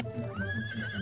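A horse, Bucephalus, whinnies in a historical documentary about Alexander the Great, a single brief rising then wavering neigh over low background rumble, with no talk.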